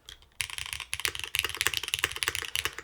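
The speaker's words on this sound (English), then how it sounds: "Spacebar sounds a bit stuffed up here." Fast typing on a Neo75 mechanical keyboard with MX2A switches and a plastic plate with long gaskets, crisp clacky keystrokes in quick irregular bursts, close and clear with no talking.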